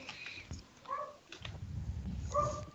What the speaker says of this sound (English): My dog is going crazy again. We can hear it.